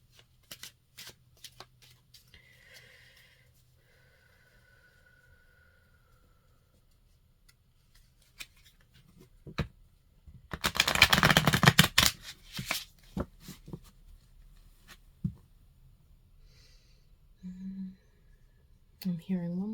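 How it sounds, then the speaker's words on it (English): Tarot cards being shuffled, a few quick riffling bursts and taps amid quiet stretches, with one loud sustained shuffle near the middle and a voice talking briefly near the end. "I'm hearing one more shuffle"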